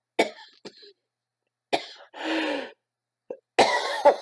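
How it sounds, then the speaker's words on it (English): Several loud, close coughs in separate bursts, with brief pauses and throat-clearing between them. "I know the coughing's extremely loud."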